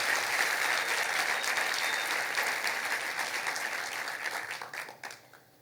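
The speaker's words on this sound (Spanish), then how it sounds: "Creo que podemos darle un aplauso mejor" A church congregation claps and applauds together, a dense, loud, steady wash of clapping that thins and fades out toward the end.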